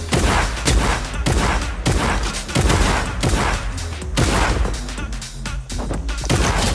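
Rapid shotgun blasts ring out in Fortnite, roughly a dozen loud, sharp bangs in uneven bursts with little pause between them, close and dominant throughout, with a game soundtrack beneath.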